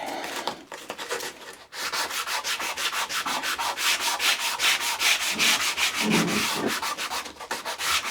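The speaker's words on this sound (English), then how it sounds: "sand the first one, move into the second one" Sandpaper rubbed by hand along a wooden moulding in a fast, even back-and-forth rhythm, close and loud, after a brief pause near the start.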